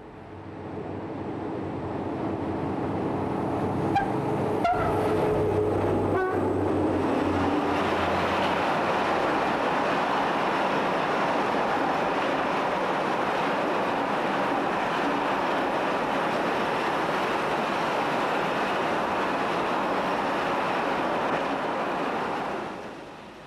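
An SNCF freight train hauled by three diesel locomotives with 48 cylinders between them climbs a gentle grade in a river valley, a deep engine roar swelling into a long, loud, steady rumble of passing wagons.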